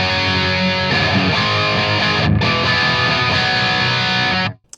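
A dry electric guitar played through a Nano Cortex into a power amp rings out as a dense, distorted sustained chord passage, loud and continuous before stopping abruptly, with no talk.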